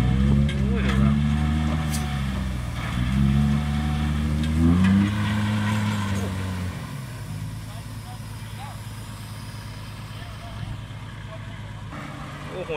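A stuck vehicle nicknamed "Jao Si Lae" bogged down to its frame in a mud pit, engine roaring at full throttle in long surging revs that fade to a lower rumble, with excited commentary talking over it throughout.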